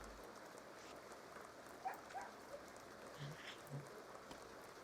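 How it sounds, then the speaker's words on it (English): Rain falls in The Sims video game as a soft, steady hiss of drops, faint and continuous, with a few brief muffled thumps rising above it. "Yes, it's raining. It's been raining a lot."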